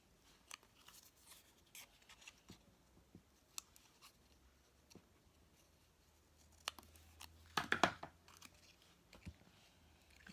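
Scissors cutting out a small paper shape for a handmade card, faint scattered snips and light paper rustles close by, with a brief louder crinkling burst near the end.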